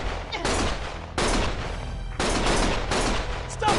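Video game gunfire, loud bursts of rapid shots starting and stopping in several rough blocks, close and harsh, with no speech.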